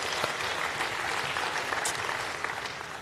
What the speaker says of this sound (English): I want to give everyone a round of applause for that.